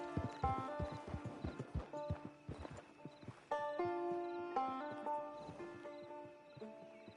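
Rhythmic hoof clip-clops of a walking horse plod along in Red Dead Redemption Online, mixed with melodic musical tones and chimes in a game-like soundscape.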